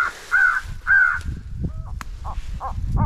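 Handheld crow call blown to imitate a crow and an owl fighting, loud harsh caws at first, then shorter hooting bursts, heard outdoors while hunting with only faint rustling between calls.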